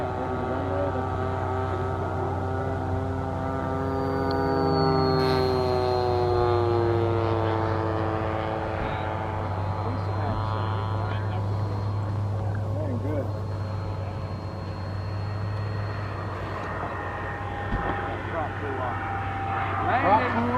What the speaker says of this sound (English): So that'll be the target drone for tonight, for the night flying.